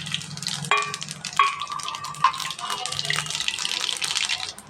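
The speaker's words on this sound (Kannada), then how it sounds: "ಎಣ್ಣೆ ಕಾದತ್ತಿ ಇದಕ್ಕೆ ಸಾಸ್ವೆ ಜೀರಿಗೆ ಹಾಕೋಣ." Mustard seeds and cumin crackle and sizzle as they hit hot oil in a pan, a close, bright hiss with a few sharp pops and faint clinks running the whole time.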